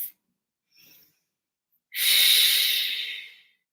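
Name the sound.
breathing during leg stretch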